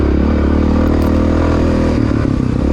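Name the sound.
1993 Honda XR motorcycle riding downhill in a race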